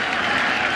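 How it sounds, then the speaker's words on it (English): Baseball stadium crowd at a 2009 World Series game between Philadelphia and New York, a brief loud wash of cheering and applause, steady and close. "Crowd trying to get back into it"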